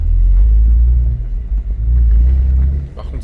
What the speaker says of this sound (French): Frère, on fait du off-road en Porsche. Même pas Porsche Cayenne, 911.